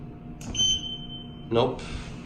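Pressing the alarm button in a Schindler 3300 machine-room-less parking garage elevator brings a brief high electronic beep, followed a second later by a louder burst of noise, all over a low steady hum.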